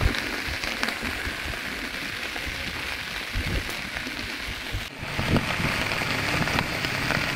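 Steady rain pattering on a surface at a beach campsite at Pantai Sepat, Kuantan, a dense continuous hiss with scattered drips, holding at an even level throughout with no voices.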